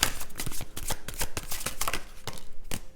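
A deck of tarot cards being shuffled by hand, a quick run of crisp riffling flicks and slaps in close succession, near and fairly loud, with no talking.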